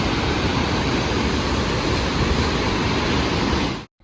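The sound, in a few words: fast-flowing river rushing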